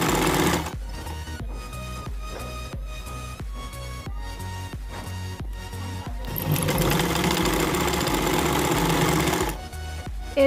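A sewing machine stitching neck trim onto a maxi dress runs in short, rhythmic bursts of rapid needle clatter, close and loud, then settles into one longer continuous run before stopping.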